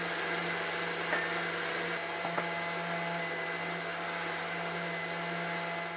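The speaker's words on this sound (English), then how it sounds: "we'll put half of our sugar first on here, mixer on, and then we'll just mix away there until that becomes stiff" An electric mixer whips egg whites with sugar for chocolate mousse, a steady, even motor whir that holds at one level throughout with a couple of faint clinks against the bowl.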